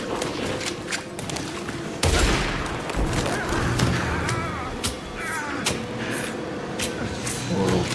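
Gunfire in the factory-building video game Satisfactory: a dense, rapid fusillade of shots with heavy thumps and booms, loud and continuous across the clip, with a sharp burst partway through.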